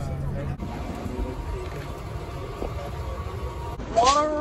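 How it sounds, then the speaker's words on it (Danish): Steady rumble and rattle inside a moving train carriage bound for Biarritz, with voices talking over the continuous noise. "Og vi er nu i toget mod Biarritz."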